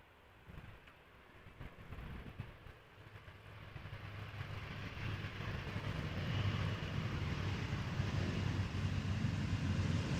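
An airliner landing at Amsterdam Schiphol Airport produces a distant, faint rumble that slowly swells into a broad, steady roar, heard alone without talk.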